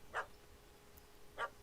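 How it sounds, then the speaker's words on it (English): A dog in the video game The Witcher 3: Hearts of Stone gives two short, faint barks about a second apart. "I'll calm the dog."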